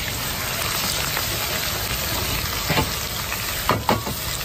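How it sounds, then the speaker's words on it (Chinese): Chopped chicken sizzles in an outdoor wok over low heat, in a steady, close frying hiss. A couple of brief stirring scrapes break through near the end. "现在放好我们剁好的鸡"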